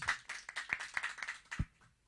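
Clapping from an audience at a Balkan music event comes as a brisk run of distinct claps, fairly close and not very loud. The claps thin out and trail off after a couple of seconds.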